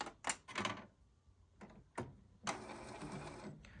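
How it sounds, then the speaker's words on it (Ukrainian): An inkjet printer running off a BLUETTI EB70 portable power station starts up, giving a few short mechanical clicks and whirs followed by a longer, steadier motor and carriage whir, heard up close with no talking. "Так, і запускаємо принтер."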